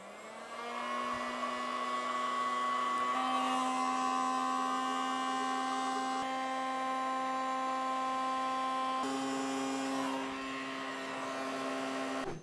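A steady electric whir and hum runs continuously at close range while a sectional clay vase on a pottery wheel is dried, with no talking.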